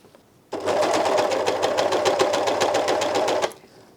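An Elna 792D serger stitches fabric with differential feed and needle tensions raised to 7, running as one steady, fast, rhythmic machine whir for about three seconds, loud and alone, starting and stopping abruptly.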